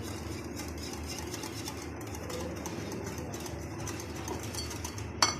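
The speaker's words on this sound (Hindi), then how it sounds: "और फिर हम इसको मिक्स करेंगे" A spoon stirring spiced raita in a bowl, with chaat masala and mashed aubergine, onion, cucumber, tomato and cabbage mixed in; close, continuous scraping and clinking ends in a sharp tap.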